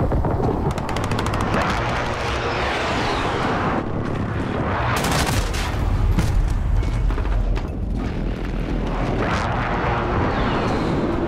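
Precision airstrike explosions in Call of Duty: Modern Warfare, a loud dense barrage of booming blasts and rapid gunfire-like detonations that rolls on continuously, with heavier bursts in the middle.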